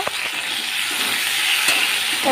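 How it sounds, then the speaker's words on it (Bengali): Sliced potato and tender vegetable stalks with salt and turmeric sizzle steadily in hot oil, a close continuous frying hiss with a couple of faint stirring clicks. "এবারে একসাথে সব কিছু ভেজে নেব।"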